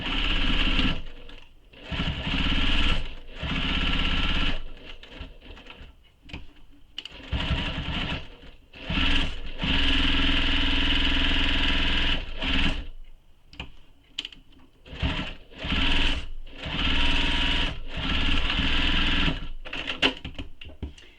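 A sewing machine stitches down the side seam of a leather-style satchel in several long, steady runs broken by short pauses, close and loud with no talking.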